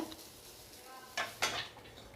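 Grated coconut dry-roasting in a pan for coconut podi, a spatula stirring and scraping across the metal in two sharp strokes over a faint background hiss.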